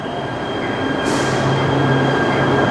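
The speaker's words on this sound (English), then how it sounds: "This is our train." A metro train passes close by with a loud steady rumble, a faint high wheel squeal, and a sharp hiss that starts partway through, with no voices.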